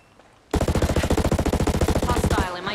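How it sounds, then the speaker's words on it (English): Rapid automatic gunfire from enemies in Ghost Recon Breakpoint, a long loud burst of evenly spaced shots that starts abruptly after a quiet moment and continues for about two seconds. "Shit! Enemy fire!"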